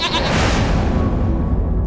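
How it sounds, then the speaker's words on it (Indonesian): A black-haired goat bleats at a grave in a cemetery in South Jakarta, one loud, close, drawn-out wavering bleat that fills the clip with no other sounds. "tiba-tiba muncul kambing berbulu hitam di pusara Glen"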